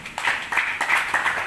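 An audience at a religious katha gathering claps, a burst of irregular hand claps at moderate distance continuing steadily throughout.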